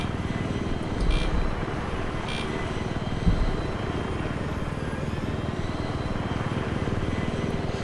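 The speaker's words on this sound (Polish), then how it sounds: "Dobra, helikopter się w międzyczasie zdążył naprawić." Helicopter in the video game Battlefield 3 droning steadily close by, with a couple of brief louder bursts of gunfire or impacts over the continuous rotor and engine noise.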